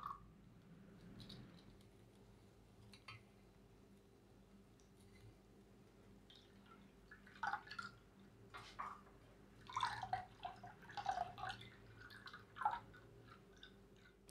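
Water from grated potato hung in a kitchen towel dripping in a quiet kitchen, sparse soft drips and small wet taps growing busier toward the end, faint and close over a low background hum.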